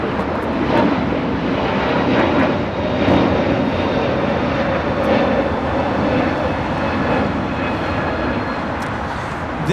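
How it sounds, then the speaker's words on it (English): A United Airlines Airbus A321neo jet takes off at Los Angeles airport, its engines giving a steady, loud, close roar with a broadband rush that stays strong throughout, with no talk over it. "This is United Airlines 1260 taking off to Denver on the A321neo."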